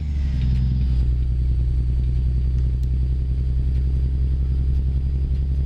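Cummins N14 truck engine mod in a truck simulator game, a steady low diesel drone with rhythmic clatter running continuously at an even level, no talk.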